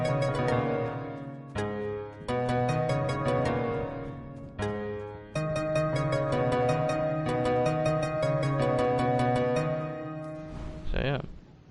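The melody of a song plays on Fortnite in-game music blocks: clear, bright synthetic notes in a steady repeating rhythm over sustained tones, pausing briefly a few times and ending with a wavering, rising tone, with no talking.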